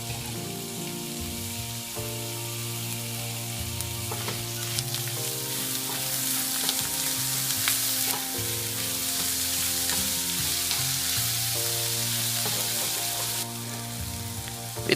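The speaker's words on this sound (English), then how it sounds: "Now add 1 chopped tomato and cook for 2 minutes." Chopped tomato cooking in a pan for goat liver fry, a steady bright sizzle and frying crackle with occasional stirring scrapes, continuous and close throughout.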